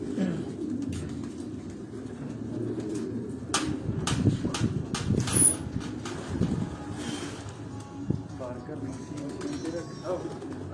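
Racing pigeons cooing and fluttering close by in a loft, with low murmuring coos and a few sharp wing flaps over steady wind and background noise.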